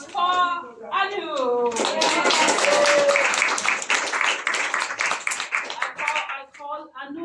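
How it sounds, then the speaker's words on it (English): An audience at a gratitude panel event applauds for Anu, steady clapping from a crowd that starts after a few spoken words and carries on for several seconds, with voices talking over it. "A round of applause for Anu."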